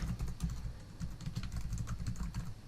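Rapid, steady keystrokes on a computer keyboard as text is typed in, a dense close clatter of key presses with no talking.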